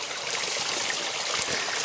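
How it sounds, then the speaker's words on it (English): Cold stream water runs steadily over an item held under it to soak it at a wild camp in the Scottish Borders, a constant close, loud rushing and trickling with no voices. "So I'm just going to get it underneath this running water"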